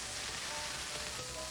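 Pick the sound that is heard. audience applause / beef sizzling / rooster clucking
beef sizzling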